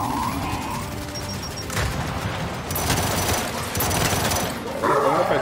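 Gears 5 combat: a grenade explosion and bursts of rapid gunfire crackle through a dense, busy mix of booms and shots, fairly steady in level.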